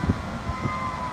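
A fire truck siren passing by during a tornado emergency, a steady tone ringing over low street rumble, fairly close and brief, with no one talking.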